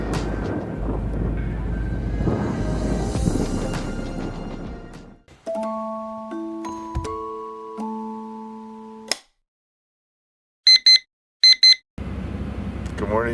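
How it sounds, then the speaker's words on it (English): An alarm clock beeps inside a truck during a winter elk-hunting camp, a few short sharp electronic beeps in the quiet after a stretch of broadcast chatter and tones. "7 o'clock, alarm's going off."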